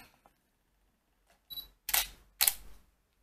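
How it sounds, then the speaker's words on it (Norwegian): A camera on self-timer beeps briefly, then fires its shutter twice in quick succession, each a crisp close mechanical clack in an otherwise quiet room. "På kamera tar bildet."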